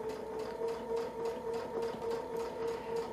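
Small quilting sewing machine stitching along the edge of a zig zag template, a steady mechanical hum with a fast even stitching rhythm, close and moderately loud, no voices.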